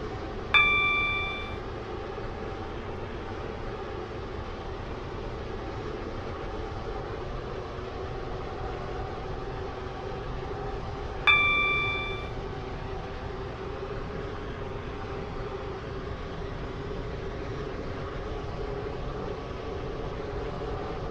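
Steady broadband rumble of a train running along the line in the Roblox game Stepford County Railway, on a Stepford Connect service to Leighton City, with two short chime dings over the continuous rolling drone.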